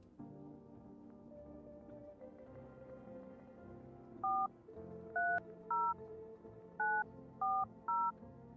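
Telephone keypad dialing, six short dual-tone beeps in an uneven sequence, clear and close, over a steady background of music.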